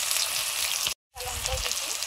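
Whole cumin seeds and chopped onion frying in hot oil give a loud, steady crackling sizzle. It cuts out briefly for a moment, then resumes just as dense.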